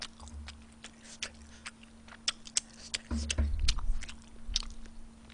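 Someone eats tteokbokki up close, with soft chewing and wet mouth sounds punctuated by sharp little bites and clicks, quiet and steady with no talking.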